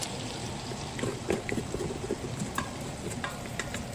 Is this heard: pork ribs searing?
yes